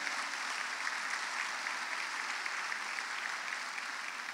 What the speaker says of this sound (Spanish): Hay un aplauso de alabanza a Él.